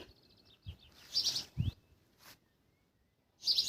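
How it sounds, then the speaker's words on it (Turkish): Birds chirping and tweeting in nesting season near a balcony with potted plants, several short high calls and trills coming in bursts with quiet gaps, moderately close and clear. "Kuşların tam kuluçka zamanı. Cıvıl cıvıl var."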